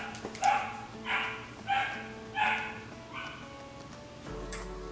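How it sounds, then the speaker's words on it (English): A 3-month-old puppy gives a run of about five high yapping barks in quick succession, fairly close, followed by a low thump. "I have a 3-month-old puppy and he's a little crazy"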